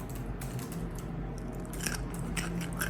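Crunchy out-of-season vegetables are bitten and chewed up close, with repeated crisp crunches over a steady background hum and no talking.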